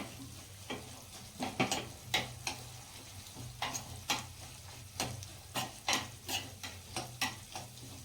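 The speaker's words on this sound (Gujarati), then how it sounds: "આ રીતે તેલમાં સિંગદાણા થોડા શેકાઈ જાય વઘારની અંદર" Crushed peanuts and turmeric sizzling in tempering oil, a soft steady sizzle under repeated light scrapes and clicks of a spoon stirring the pan, close and fairly quiet.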